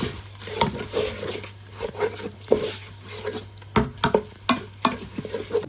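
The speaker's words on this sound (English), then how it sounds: "I'm going to add a Keema, mince. Give them a good stir." Chicken keema mince is stirred as it fries in a pan, with a steady sizzle under irregular scraping and clattering strokes of the spoon against the pan, close and moderately loud, with no talking.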